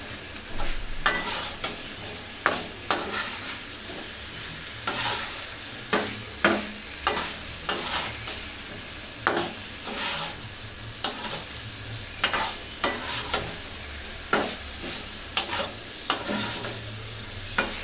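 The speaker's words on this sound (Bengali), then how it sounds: "এখন চিকেনটা দিয়ে চুলার আঁচটা একটু বাড়িয়ে দিবেন, বাড়িয়ে দিয়ে ভালো মতন মেখে প্রায় 8-10 মিনিটের মতন কষিয়ে নেবেন।" Chicken for a Bihari chicken dish frying over raised heat while being stirred: continuous sizzling with repeated scraping strokes of a spatula against the pan at a steady, unhurried rhythm.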